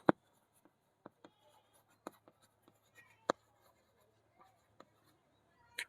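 A pen writes on paper while working through a Class 8 maths square-numbers problem. It makes scattered, sharp taps and scratches at close range, with a few louder strokes among quiet pauses.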